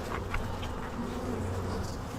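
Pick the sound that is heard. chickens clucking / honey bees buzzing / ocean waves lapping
honey bees buzzing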